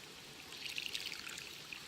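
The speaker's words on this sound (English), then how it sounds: "so now I'm just going to give them some water." Water poured from a cheap aluminium bottle into a bowl for dogs in a park, a faint, close trickle with small splashes lasting about two seconds.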